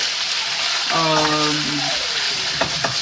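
Chicken fries with minced garlic in hot oil, a loud constant crackling hiss, while a person talks briefly over it and a utensil scrapes near the end.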